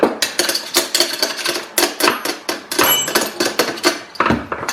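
Metal shavings are shaken out of a drilled jack handle for an RV trailer, giving a quick run of loud rhythmic metallic rattles and clinks, each shake a separate burst, close by with no talking.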